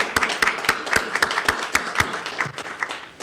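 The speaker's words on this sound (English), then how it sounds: "Certainly join me in giving them an applause right now" An audience at a scholarship recognition event claps steadily and fairly loudly, an even run of hand claps with no voices over it.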